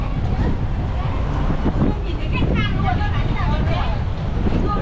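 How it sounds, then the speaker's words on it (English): Steady wind rumbles and buffets the microphone outdoors on An Thuong streets in Da Nang, Vietnam, with faint street voices and babble mixed in underneath. "It's kind of windy here."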